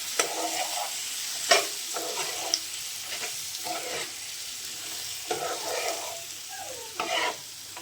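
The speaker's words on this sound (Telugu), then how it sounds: "మళ్ళీ ఒకసారి కలుపుకుందాం." Chicken fry sizzling in a pan with fresh coriander as it is stirred, a steady hiss of frying broken by repeated scraping strokes of the spoon, close and with no talking.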